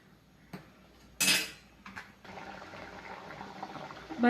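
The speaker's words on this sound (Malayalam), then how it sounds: "ഇതൊന്ന് തിളയ്ക്കണം ഒരുപാട് തിളയ്ക്കണ്ട കുറച്ചൊന്ന് തിളച്ചാൽ മതി" Kerala moru curry of taro and yogurt paste in a pot, with a sharp clink of a utensil against the metal followed by a soft, steady bubbling simmer that continues close by.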